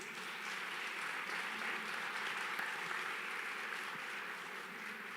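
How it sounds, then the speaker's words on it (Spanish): A church congregation gives a steady, sustained round of applause to the Lord during a sermon, heard as an even, fairly soft wash of many hands clapping from a distance with no break. "Dale un fuerte aplauso al Señor"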